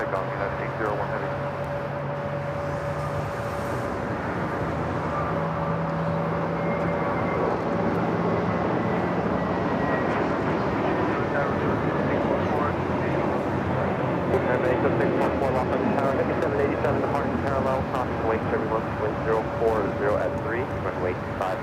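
A JetBlue Airbus A321neo LR takes off from LAX bound for JFK, a sustained, distant jet roar with a steady tone, while air traffic control radio chatter runs over it throughout.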